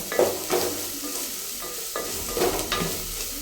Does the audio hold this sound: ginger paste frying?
yes